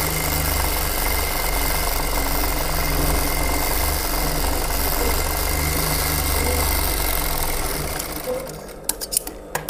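A sewing machine runs a flat seam through fabric, its steady, close whirring drone holding for about eight seconds before cutting out, followed by a few sharp clicks and handling taps.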